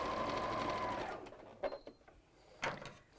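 A sewing machine stitching fabric pieces for a wall hanging runs steadily and close for about a second, then stops, leaving only light handling clicks and soft rustles.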